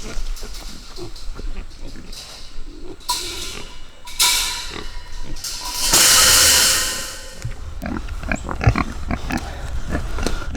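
Purebred Berkshire pigs grunt and squeal close by as they are loaded for transport, mixed with clanking, shuffling and one loud hissing squeal, all set against a busy farmyard background.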